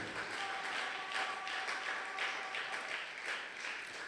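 A church congregation at a Sunday thanksgiving and praise service applauds with steady, dense clapping that swells in waves, a faint sustained tone running beneath.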